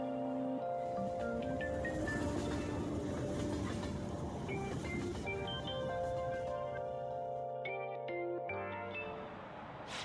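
A train running on rails in the video game Persona 5, a continuous low rumble with soft rhythmic clatter under sustained musical tones, fairly quiet and steady throughout.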